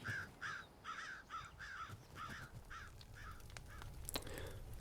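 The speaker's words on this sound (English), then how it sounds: "Flocks of crows invaded the forest, filling the few gaps of light left in the coniferous canopy." Crows cawing in a coniferous forest, a flock giving a steady run of about a dozen harsh, repeated caws at moderate distance, with a brief sharp crack near the end.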